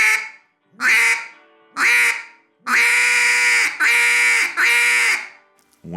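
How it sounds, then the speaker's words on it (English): A duck call is blown in a series of loud, close, nasal quacks, each longer and harder than the last, building pressure toward the first note of a hail call. "we're going to build up pressure on it until we can hit that first note of a hail call like this"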